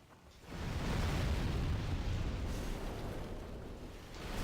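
A firebomb thrown by a fat official in Demon's Souls bursts into a sudden rumbling explosion that swells within half a second and then roars on as a sustained fiery blast, alone and fairly loud.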